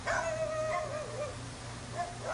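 Dogs rescued from the meat trade at a sanctuary in Tarlac, Philippines, whimper and yip in thin, rising and falling whines. A couple of nearby cries stand over a constant low background hum.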